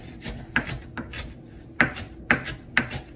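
A knife chops potato leaves finely on a board in a handful of sharp, uneven strokes, close and crisp, while a person talks over the cutting.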